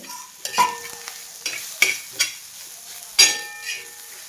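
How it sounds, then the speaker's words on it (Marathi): Green chili thecha roasting in oil in a pan, with a spoon scraping and clinking against the pan in irregular strokes over a soft, faint sizzle, close up and without talk. "आता हा खरडा आहे ना छान असा मोकळा होईपर्यंत मी असा भाजून घेणार आहे"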